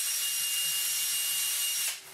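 A power buffer with a soft buffing pad runs against an acrylic sheet, a steady high-pitched whirring hiss that holds evenly before dropping off abruptly at the end, with no talk.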